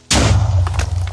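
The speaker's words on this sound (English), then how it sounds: "What the fuck was that loud explosion? A creeper" A creeper explodes in Minecraft with one sudden loud boom that holds as a rumbling blast and fades slowly, with no voices.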